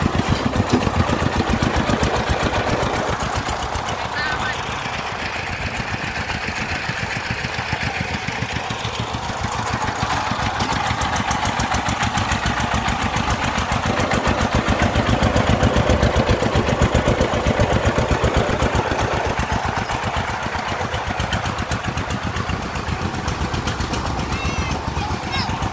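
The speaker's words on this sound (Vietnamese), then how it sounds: "Mình đang bám theo một chiếc xe công lông chở đất đến trong công trình" Rattling diesel chug of a Vietnamese công nông farm truck hauling a load of soil to a garden worksite, a close, steady knocking engine throughout with someone speaking over it.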